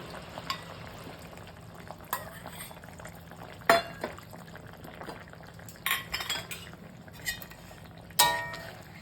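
Fish curry simmering gently in a pan, a soft, faint bubbling hiss punctuated by a few sharp clinks and scrapes of a utensil against the metal.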